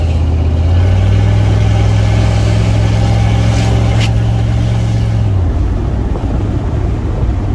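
A 1991 GMC truck engine idles steadily after a fuel system upgrade, a loud close low rumble with a constant drone that cuts off abruptly near the end, leaving quieter background.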